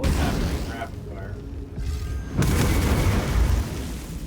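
A rapid fire attack in the video game Baldur's Gate 3, heard as dense booming blasts with a short lull, then a second loud burst that rumbles on to the end.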